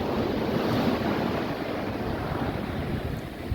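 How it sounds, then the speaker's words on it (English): Ocean waves wash steadily onto a beach in a continuous broadband roar, close and fairly loud, with wind buffeting the microphone and no voices. "these waves are always coming out onto the beach"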